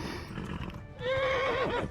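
A horse in the medieval video game Kingdom Come: Deliverance lets out a loud, close, wavering whinny that rises and trails off over the second half, after a short stretch of low background noise.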